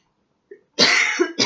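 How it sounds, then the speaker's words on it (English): A single close, harsh cough after a tiny throat sound, followed by the start of a second cough, indoors and otherwise quiet. "Stupid cough."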